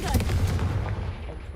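Confringo fire spell blast in the video game Hogwarts Legacy: a loud, near burst of fiery booms and crackle that rumbles briefly, then trails off and fades over a second and a half.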